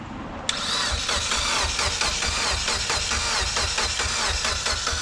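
A Mitsubishi Evo X engine from a 600hp build cranks abruptly after a brief silence and then keeps running with a loud, steady, pulsing engine note up close.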